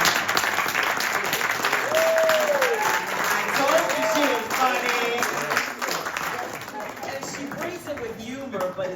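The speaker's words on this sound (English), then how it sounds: "You may clap because I was wonderful." Steady, full applause from an audience at a mental health talk in a lounge, sustained across the whole stretch with voices audible underneath.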